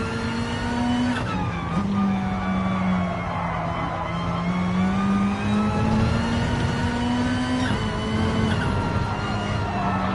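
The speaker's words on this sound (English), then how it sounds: "I love the sound of this car." A race car engine in Gran Turismo Sport at Laguna Seca drones steadily at high revs, its pitch rising and dipping with gear changes, loud and continuous throughout.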